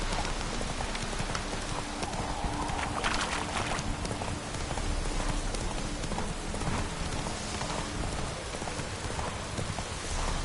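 Hooves of Roach, a horse in a video game, clip-clopping in a steady continuous rhythm under a dense wash of rain-like noise, fairly loud and close throughout.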